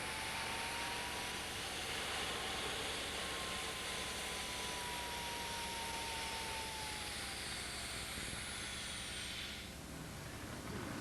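A JPX model jet engine at a fan-fly event runs with a steady, loud turbine roar and a high whine that shifts slowly in pitch, sounding like a full-size jet.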